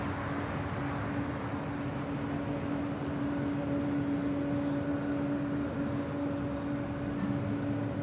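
A Boeing 777-300ER airliner bound for Hong Kong hums at a distance as a faint, steady engine drone with a sustained tonal whine, and no voices are heard.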